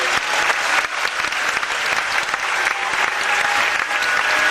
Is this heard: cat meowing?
no